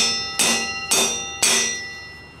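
A ball peen hammer strikes a stuck axle nut threaded on the end of an axle during a rear suspension teardown, three sharp ringing metallic taps spaced about half a second apart, each with a short metallic decay, close and loud.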